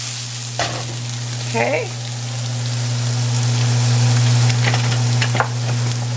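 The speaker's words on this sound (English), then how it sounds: "I'm going to put my julienne onions in there." Julienned onions hiss in a hot pan, a loud continuous rain-like sizzle with a low steady hum underneath and a few brief spatula scrapes, while a voice briefly speaks.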